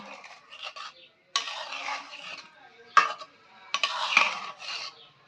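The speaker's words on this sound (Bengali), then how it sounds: "এবার একটু নাড়াচাড়া দিয়ে দেবো" Semolina rasgulla being stirred in sugar syrup in a pot, with bursts of wet scraping and spoon clinks against the metal, broken by short pauses, close by with no talk.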